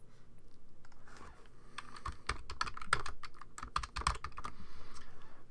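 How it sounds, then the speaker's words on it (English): Rapid, irregular clicking of a computer keyboard as someone types text into a new file, close and fairly steady, with bursts of keystrokes and no talking. "And I'll just type in tracking on this."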